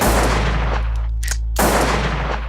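Gunfire from a film soundtrack: loud, sustained blasts fill the clip, broken by a brief lull about halfway through before the shooting resumes at full intensity.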